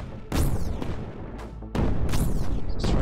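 Weapons in Creeper World 4 blasting an enemy tower, heavy booming shots with sweeping whooshes, several loud impacts arriving in quick succession and overlapping.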